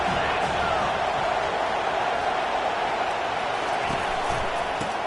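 A college football stadium crowd roars steadily throughout, a dense, continuous wash of cheering and noise filling the stands as the defense pins the opponent deep in their own end.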